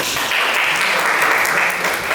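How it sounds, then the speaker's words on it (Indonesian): A classroom group claps in a continuous, even burst of applause, many hands close together and fairly loud, sustained for a couple of seconds without speech. "Tepuk tangan dong"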